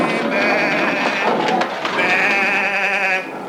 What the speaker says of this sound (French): Allons, allons les agneaux, avancez.